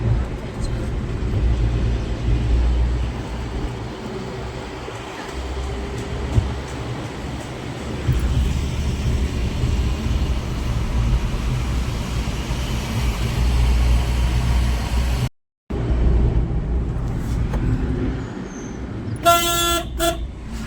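A Maruti Eco van drives along a road, with a steady low engine and road rumble filling the cabin. Several horn toots sound near the end, and a voice is faintly present.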